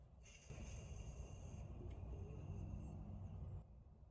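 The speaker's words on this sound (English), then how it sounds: "That noise you heard was the pressure releasing from the system." Pressure releases from a Chevy Cruze cooling system during a thermostat housing replacement: a faint, steady hiss lasts about three seconds, then cuts off.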